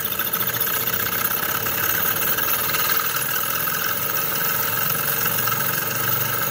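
A small Enginekitor twin-cylinder Stirling engine runs at high speed, producing a steady, dense mechanical whir and rattle that holds constant throughout, with no voices.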